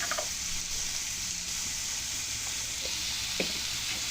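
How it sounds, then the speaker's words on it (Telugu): Onions frying in oil with salt and turmeric for a brinjal curry give a steady, fairly loud sizzle with a few soft stirring clicks, no voices. "ఉల్లిపాయలు మగ్గ పెడతాను."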